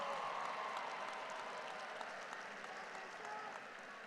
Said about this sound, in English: Give them a round of applause for their outstanding work in this remarkable achievement.